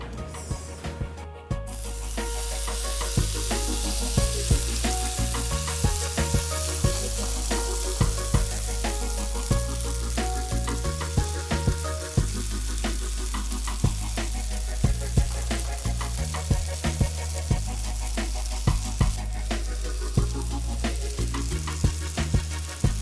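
A crispy potato cake fries in a non-stick pan with a loud, steady sizzle that runs throughout, marked by small crackles and pops.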